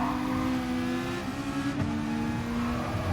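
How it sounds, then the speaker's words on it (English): Aston Martin race car in Gran Turismo Sport roaring loudly at a steady high pitch, with a brief shift or dip in the note partway through, and no talking. "That Aston Martin sounds so loud."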